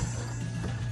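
Plastic latches on a Makita Packout tool box being worked, stiff and reluctant to close: a short, close mechanical clatter and click over a low steady hum, with no talk.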